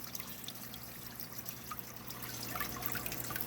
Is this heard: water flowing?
yes